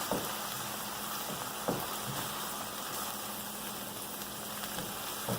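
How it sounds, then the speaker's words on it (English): Beef for Philly cheesesteak sizzles steadily in a hot pan while being stirred, a continuous close frying hiss with occasional scraping strokes. "We're gonna just keep stirring it because you just want the meat to brown"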